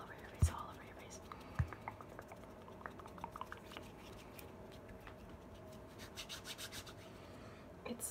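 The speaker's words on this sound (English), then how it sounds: "And now I'm just gonna rub it in." Soft, close rubbing and brushing across skin in an ASMR face-care roleplay, a steady low texture with a few light taps and crackles, intimate and quiet, with no talking.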